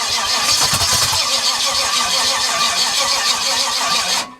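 A Cadillac engine cranks and catches, then runs loud and rough for about four seconds with a steady, throaty roar before cutting off abruptly.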